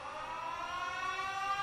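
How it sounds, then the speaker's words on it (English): A siren alarm in the video game Factorio, a continuous wailing electronic tone that holds steady and slowly rises in pitch, clear and alone. "Siren."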